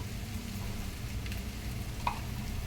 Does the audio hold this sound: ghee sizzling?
yes